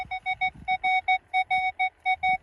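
A metal detector gives a rapid series of bright, evenly pulsed beeps, repeating steadily and close, with faint rustling underneath.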